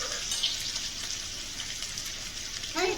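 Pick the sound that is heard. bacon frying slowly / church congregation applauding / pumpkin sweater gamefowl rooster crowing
bacon frying slowly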